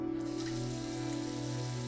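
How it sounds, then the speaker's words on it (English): A motion-sensor sink faucet in a restroom runs steadily, water gushing into the basin with a constant hum, close and continuous throughout. "I heard one of the motion sensor sinks turn on."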